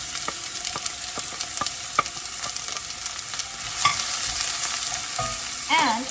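Chopped yellow onion sautéing in well-heated oil in a pan: a steady close sizzle broken by a regular series of light utensil taps and stirs, with a scrape and clatter near the end.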